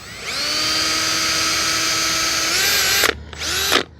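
Power drill fitted with a 3/16 inch bit boring into a palm trunk, a steady high whine running about three seconds, rising in pitch near the end, then stopping briefly before a short second burst.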